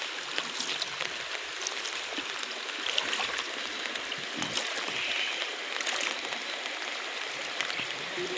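Steady rushing water from a small waterfall and flowing stream, a continuous broadband wash with faint trickles and splashes on top, fairly close and with no voices.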